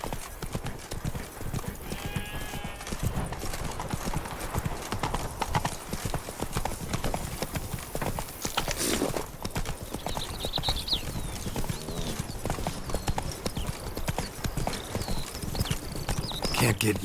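A horse gallops at a steady clip in The Witcher 3: Blood and Wine. Its hoofbeats drum continuously for the whole stretch, with a brief whinny partway through, under spoken dialogue and background game music.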